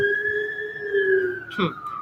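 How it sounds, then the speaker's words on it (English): A police siren wails in a steady, drawn-out tone, fairly close, with a brief clatter of street noise near the end. "you hear the sirens right now?"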